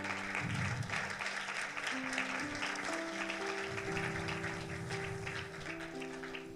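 Congregation in a church applauding, a dense sustained clapping with a sustained keyboard or organ chord rising beneath it.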